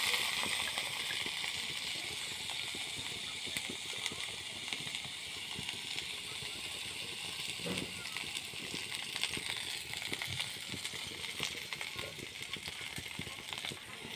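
Onion, garlic and green chili frying in oil give a steady, close crackling sizzle with bright hiss throughout, with small pops and stirring clatter, no voice on top.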